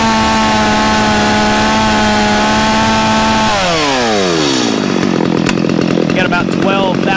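A Stihl MS250 chainsaw engine screams at high revs near 13,000 RPM, holding a steady loud whine before its pitch sweeps down and settles into a rougher, lower running tone.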